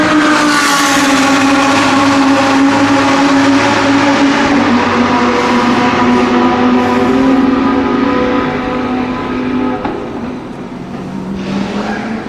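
Race cars at Suzuka Circuit roar past loudly and continuously, engines droning and shifting pitch as they speed by, heard from nearby trackside without talking.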